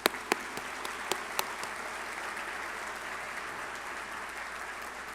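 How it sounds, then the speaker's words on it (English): An audience at an annual Groundhog Breakfast event gives a sustained round of applause, dense and even, with a few louder separate claps near the start. "Please give them all a round of applause."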